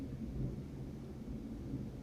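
A thunderstorm during the Arizona rainy season, heard as a steady, heavy low rumble that rolls on continuously with no pause, with a faint wash of rain beneath it.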